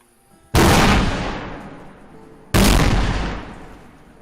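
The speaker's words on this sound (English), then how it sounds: "someone set off a big-ass firework that was so loud it scared Drachenlord" Two loud, sharp booms from a big firework set off outdoors, each striking suddenly and then rolling off in a long fading decay, about two seconds apart.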